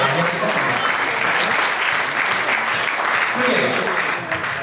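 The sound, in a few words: audience clapping at poetry recital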